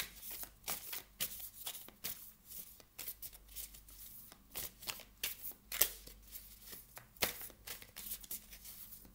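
A deck of tarot cards is shuffled by hand in repeated quick riffles and soft slaps, close and fairly quiet, with no talking.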